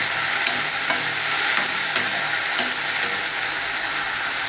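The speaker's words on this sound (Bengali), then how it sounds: "তো বরবটি ভাজা আমার" Long beans sizzling in hot oil in a home kitchen pan, a dense steady hiss broken by regular scraping stirs of the spatula, close and loud with no talk.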